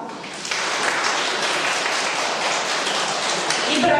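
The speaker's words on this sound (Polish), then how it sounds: "więc też duże brawa" Sustained applause for parents at a kindergarten Grandparents' Day performance, a dense steady crowd of clapping hands that swells in after a brief quieter opening and continues evenly to the end.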